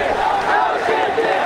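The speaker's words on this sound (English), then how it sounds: "you can hear the adoration from the crowd right now" Large esports arena crowd roaring steadily at The International 2018 Dota 2 main event during a Virtus Pro versus LGD match, a dense, continuous wash of cheering with no breaks.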